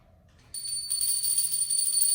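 A temple genta hand bell is rung as a story sound effect, set at Gunung Agung. It gives a bright, sustained metallic ring that starts suddenly and hangs on steadily without fading.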